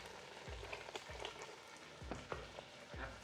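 Red palm oil hits cooking eru greens, a Cameroonian leafy dish, in a pan, giving a faint, steady sizzle with a few soft stirring scrapes.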